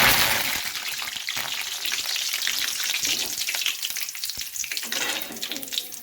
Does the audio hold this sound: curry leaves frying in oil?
yes